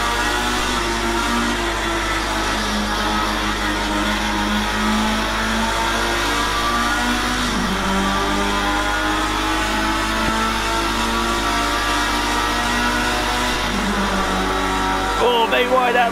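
A Formula Rookie racing car from Project Cars 2 lapping the Portimao circuit, its engine a loud continuous high whine with pitch shifts through gear changes, while someone talks over it.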